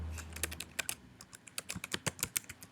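A computer keyboard is typed on in a quick, even run of close, quiet keystrokes as a search is entered, with no speech over it.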